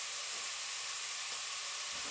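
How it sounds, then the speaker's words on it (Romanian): Ingredients sauté in a pot with a dense, steady hissing sizzle, heard up close and continuous with no talking. "Acum le dinstui."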